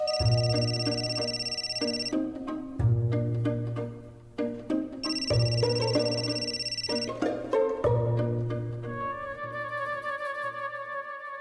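A telephone ringtone plays a repeating melodic pattern several times in a row, loud and close, with no one talking.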